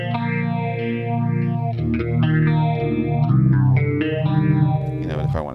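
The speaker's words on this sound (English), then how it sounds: "This is a clean sound with a phaser on it." Electric guitar on a clean setting run through a phaser pedal, sustained chords sweeping up and down in a swirling wave, loud and close, with no talking.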